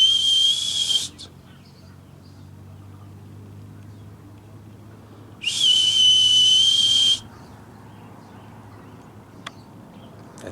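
Two long, steady high whistles, each a second or two, imitating prairie dog calls, separated by quiet outdoor ambience in Arizona with faint low rumble.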